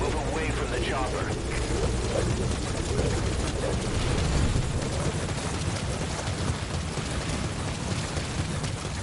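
A helicopter in the Metal Gear Solid V video game thrums close and loud with a steady, dense rotor roar that fills the whole stretch without a break.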